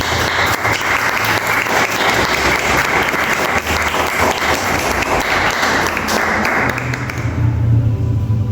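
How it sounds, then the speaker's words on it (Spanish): Audience applause for the artists at a pastel art exhibition talk, dense and steady clapping at close range for about seven seconds before it thins out, with low murmuring underneath. "Un aplauso."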